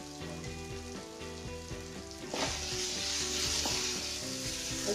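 Potato and onion curry with salt and turmeric is stirred in a hot pan, a steady sizzle with scraping spoon strokes that grows louder and brighter partway through, with no talking.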